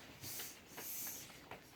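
A snake-hissing sound effect in a theatre: several breathy, airy hisses come in uneven bursts over about two seconds, moderately loud and with no talk over them.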